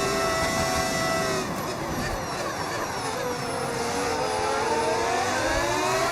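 A Ferrari V10 engine sound mod in the F1 25 racing game, a loud, steady, high-pitched engine wail whose pitch rises and falls with the revs, with no talking.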